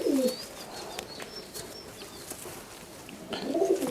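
Madrasi Kalanka pigeons coo softly at close range in a loft, with a couple of low coos at the start and end and faint chirps and wing sounds between.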